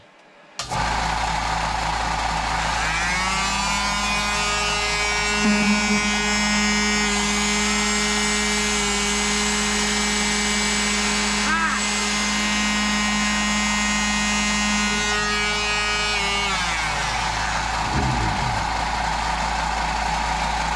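An off-grid power system running four tools at once together with an air compressor, a loud steady mechanical whine and hum that starts abruptly, holds nearly constant for about sixteen seconds, then winds down.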